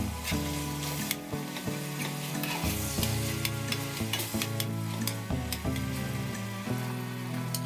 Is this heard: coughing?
no